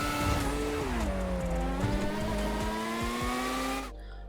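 A loud F1 race car engine in the video game GTA 5 drones steadily, its pitch dipping then climbing as it revs, with tire noise underneath before cutting off abruptly near the end.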